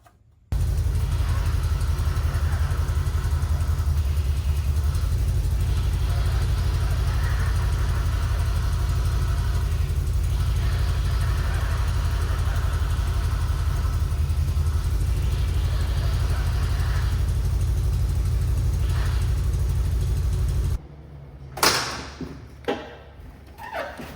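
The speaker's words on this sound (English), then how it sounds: "it might whine just for a couple seconds whenever you first start it, just till it cycles the fluid" A 1979 Ford F150 engine runs after a new power steering pump install, a loud, steady low idle rumble close by for about twenty seconds, then it cuts off, leaving a few clanks and knocks.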